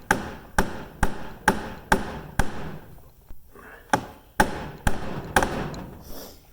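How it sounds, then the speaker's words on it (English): Sharp, close hammer taps on a stripped bolt extractor being driven into a bolt hole, about a dozen metallic strikes in a steady rhythm with a short pause midway, no talking. "So now we're going to take our extractor, and we're just going to kind of tap it down in that hole a little bit."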